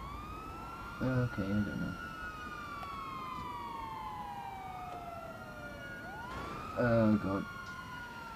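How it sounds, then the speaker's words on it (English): Wailing emergency vehicle sirens sweep up and down continuously in the GTA Online video game, with firemen's sirens among them, while a person talks briefly over them at two points. "So many sirens. And firemen."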